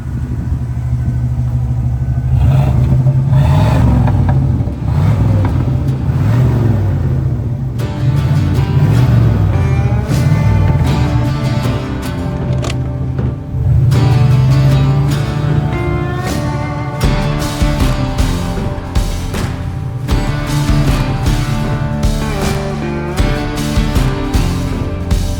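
A 1981 Pontiac Turbo Trans Am engine starts and settles into a steady, throaty idle with a low rumble, loud and close, no talking.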